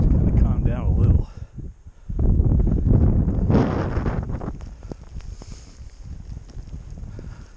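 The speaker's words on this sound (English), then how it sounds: "And it's like breathing snow. This is facing the wind." Blizzard wind in Parker, Colorado blows straight into the microphone in heavy roaring buffets and gusts that ease off toward the end, loud and close, with a person talking through the noise.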